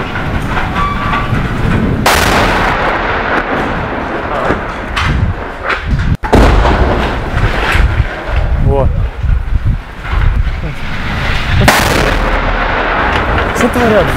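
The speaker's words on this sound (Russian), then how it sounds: "Что творят? Взлет взрывают." Loud, heavy blasts boom repeatedly over a rumbling background as Donetsk Airport's runway is bombarded in battle, with sharp cracks and rolling roars; voices can be heard in between.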